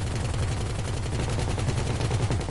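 Rapid gunfire in GTA 5, a dense continuous burst of shots that is loud, close and unbroken, heard alone without talk.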